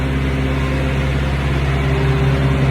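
A refrigerated semi-trailer's reefer unit runs with a steady, loud diesel drone and strong low hum, constant throughout with no pauses or talk.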